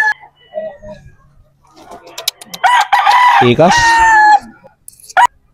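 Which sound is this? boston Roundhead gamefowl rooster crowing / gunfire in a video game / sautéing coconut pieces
boston Roundhead gamefowl rooster crowing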